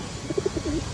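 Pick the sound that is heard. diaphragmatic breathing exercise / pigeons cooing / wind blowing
pigeons cooing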